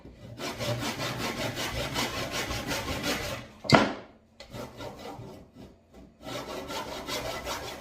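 Hand saw cutting through wood for a door frame during a home kitchen renovation, steady back-and-forth strokes running close and loud, with a brief sharp break midway before the rhythmic sawing resumes.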